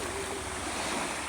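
Sea waves washing on a beach, a steady, rushing surf wash with wind noise on the microphone, continuous and fairly soft, no talk.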